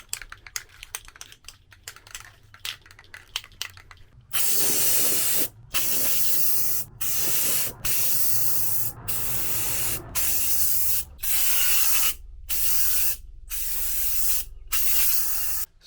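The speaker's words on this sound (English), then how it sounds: "we're getting ready to spray, and I'm wearing a mask because I'm spraying paint." Bed liner paint is sprayed onto van surfaces in a string of loud, close hissing bursts separated by brief silences, after some quieter tapping and handling at the start.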